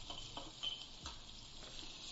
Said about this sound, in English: he's only frying up the vegetables right now just to kind of soften them before you add the rice